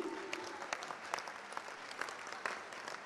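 Audience clapping at a ceremony attended by officials including a UNICEF representative and an ambassador: a steady patter of many hands, moderately close, continuous for a few seconds with individual claps standing out.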